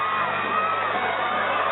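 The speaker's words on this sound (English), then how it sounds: "They're cheering." Concert crowd cheering for a rap artist, a sustained roar of shouts and whoops, band-limited and steady throughout.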